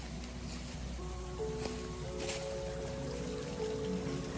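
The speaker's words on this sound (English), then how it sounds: "You can hear it gurgling through here." A creek gurgles and trickles in a steady low wash, with faint tonal bubbling and drips over a constant background, at moderate distance and without speech.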